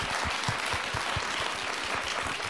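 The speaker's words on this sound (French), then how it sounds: "On peut l'applaudir" An audience at a Christmas talk event applauds warmly, a dense, even patter of many hands clapping throughout with no break.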